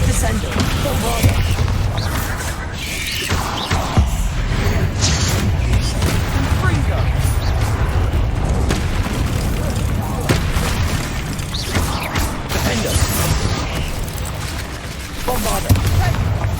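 Repeated Bombarda blasting-spell explosions in Hogwarts Legacy, heavy booms and crackling bursts firing one after another in a dense, continuous stream of combat noise, with voices calling out amid the blasts.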